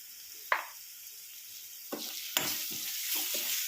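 Food frying in a pan with salt and turmeric, a continuous sizzle broken by several sharp stirring scrapes and clanks, the frying growing fuller and louder toward the end.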